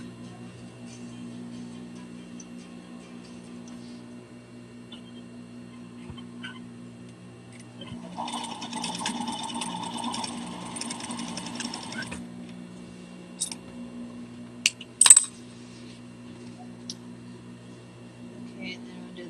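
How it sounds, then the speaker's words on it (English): A sewing machine sews down the sides of a hat in one short burst of stitching lasting a few seconds, set against a low background hum with scattered clicks afterward. "I'm going to fold this in half and sew down the sides"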